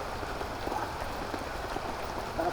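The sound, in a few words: heavy rain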